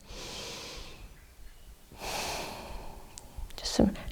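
Slow, easy breaths during a gentle chair yoga session, soft inhales and exhales rising and falling at a relaxed pace, close and quiet, with a brief sharper breath near the end.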